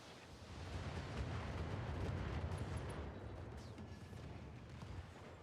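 Weapon fire from a mech in Battletech, the hits landing as a low, rumbling blast that swells over a couple of seconds and then fades, heavy and fairly distant with no voices.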